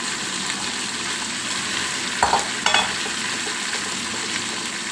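Ginger garlic paste frying in a pan for a Telangana mutton dish, a steady close sizzle with two brief clinks of a utensil partway through.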